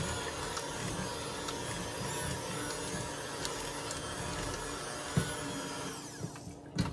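Steady motor whir of a blender mixing dark chocolate frosting for a reduced-carb chocolate cake, running loud and continuous with a few clinks near the end.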